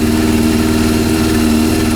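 Rebuilt Honda CB400 four-cylinder motorcycle engine with swapped carburetors running steadily at idle, close and loud, with an even throbbing exhaust pulse and no talk.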